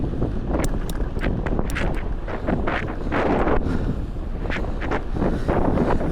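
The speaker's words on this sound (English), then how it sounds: "but it is pretty windy today." Steady wind buffeting a microphone, a loud continuous low rumble with gusty bursts throughout and no voices.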